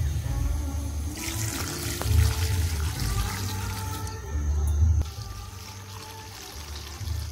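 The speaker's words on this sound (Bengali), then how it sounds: "এবার জল দিয়ে দেবো।" Water poured into a pot of vegetable curry, a continuous splashing pour lasting several seconds and swelling louder in short surges before easing off, close by with no talk.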